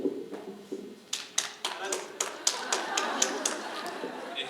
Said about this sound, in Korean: 박수 쳐드렸고요